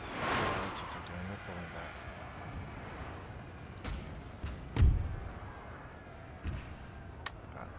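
Cannon fire in Napoleon: Total War during a French campaign battle: a few muffled booms and thuds, the strongest near the middle, over a constant rumbling battlefield din.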